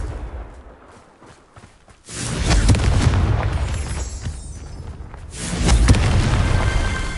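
The Confringo explosion spell in the game Hogwarts Legacy erupts in a loud, sustained blast with crackling debris, then a second booming surge follows, filling the scene with heavy rumble.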